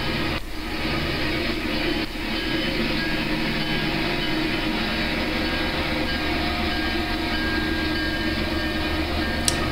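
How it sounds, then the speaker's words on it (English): Loud, continuous rumble of locomotives rolling by up close in an engine yard, slowing to cross over to the next track, with steady wheel noise and a faint squeal near the end. "The locomotives slow down to cross over to the next track."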